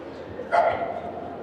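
A tazy, a Kazakh sighthound, gives one short, sharp bark about halfway through a brief moment, with speech-like sounds around it.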